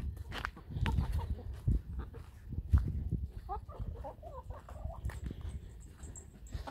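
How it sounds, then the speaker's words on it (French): Farm chickens cluck softly in a short, faint run of calls in the middle, mixed with low rustling and handling noises nearby. "On va faire les poulets."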